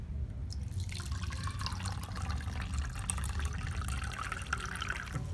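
Water is poured into a cat's drinking bowl, a soft continuous splashing trickle heard close and fairly quiet against low background noise.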